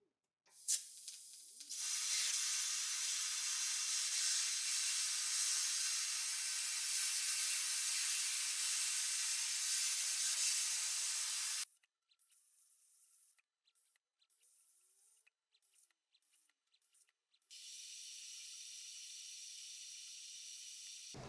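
An ArcDroid CNC laser cuts 2mm stainless steel with a loud, steady hiss lasting about ten seconds. A run of short broken hisses follows, then a quieter continuous hiss.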